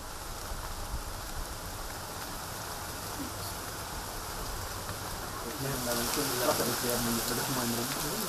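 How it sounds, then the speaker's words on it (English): Rain falls steadily outdoors during a biodiversity monitoring field trial, a soft continuous patter that thickens and grows louder near the end, with a faint voice-like murmur underneath. "It's raining harder."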